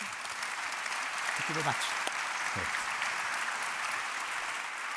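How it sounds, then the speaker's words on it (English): An audience at a climate conference applauds panelists after a net-zero discussion, continuous even clapping while a voice briefly speaks over it. "How about a round of applause for them?"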